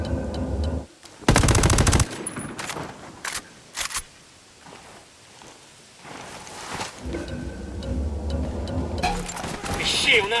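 Sniper and automatic gunfire in the tactical shooter game Ghost Recon Wildlands: a loud sustained burst followed by several sharp shots, then rumbling ambience and more firing near the end.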